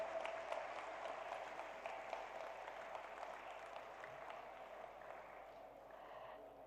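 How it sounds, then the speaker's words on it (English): Faint, steady applause from an audience honouring dignitaries on the dais at the IISF Challenge 2023 event, a soft continuous patter sounding distant throughout. "A big round of applause to all the dignitaries on the dais."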